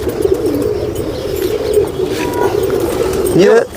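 An older pigeon from a breeder's loft coos in a low, sustained, rolling drone close by, with a rising warble near the end and a voice briefly breaking in.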